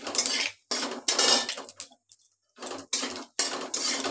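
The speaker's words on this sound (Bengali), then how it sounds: "এগুলোকে একটুখানি নাড়াচাড়া করে নেব" Spices such as cardamom, cloves and cumin being stirred in a pan, heard as bursts of metallic scraping and clinking from a spoon against the pan. Brief pauses separate the bursts, and the sound is near and moderately loud.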